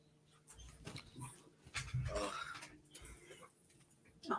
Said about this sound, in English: Oh, my dog wants to say hi.